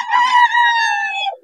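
A gamecock at a poultry market in Bocaue crows once, loud and close, a single drawn-out call.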